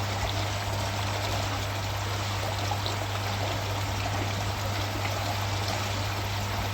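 Water running through a koi pond pump after an air valve is opened, heard as a steady, faint rushing and trickling flow with a constant low hum underneath, unbroken for the whole stretch.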